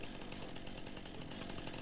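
In the farming video game Landwirtschafts-Simulator 19, a chainsaw cuts trees, its engine buzzing steadily and fairly quietly for the whole stretch, with no voices.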